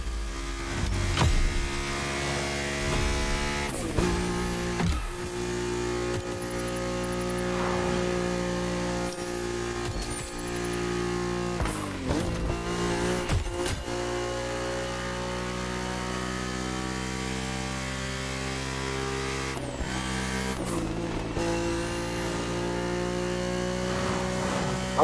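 A car with an inline-six engine driving, giving a steady droning engine note with a few brief shifts in pitch, heard alone at a moderate level.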